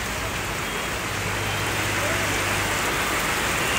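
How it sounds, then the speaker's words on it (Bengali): Heavy pre-monsoon storm rain pours down in a steady, dense hiss that stays loud and even throughout, with no breaks and no voices. "কি বৃষ্টি হচ্ছে"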